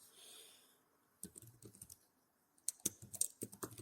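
A sudo command is typed on a computer keyboard in a quiet room as two short runs of soft, close keystroke clicks separated by a pause.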